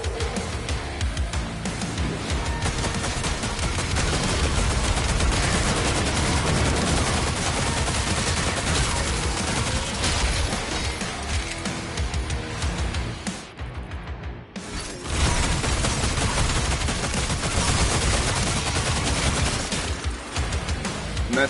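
Skull Crusher Ravager weapon firing in DOOM: The Dark Ages, a dense, loud barrage of rapid shots pounding almost continuously for about twenty seconds, with one brief lull near the middle before the fire resumes.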